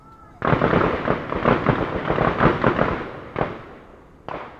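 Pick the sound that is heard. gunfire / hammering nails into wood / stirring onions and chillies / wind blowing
gunfire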